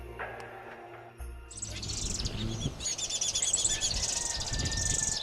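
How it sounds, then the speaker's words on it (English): A busy chorus of weaver birds chatters and chirps in dense, overlapping bursts, building from a quieter start into a loud, continuous twittering. "attracted by bird sounds, we found these weaver birds next door."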